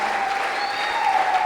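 A church congregation at a Sunday service claps together in a short, steady burst of applause, moderately loud and evenly sustained.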